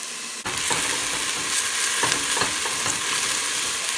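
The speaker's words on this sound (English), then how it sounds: "start by sauteing our onion first" Half an onion and garlic sauté in a hot pan, giving a steady, loud sizzle and hiss throughout with a few soft stirring scrapes and no talking.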